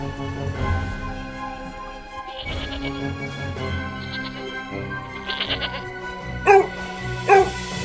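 A sheep bleats twice near the end, sharp wavering cries rising over a busy stretch of layered background music and effects that runs the whole time.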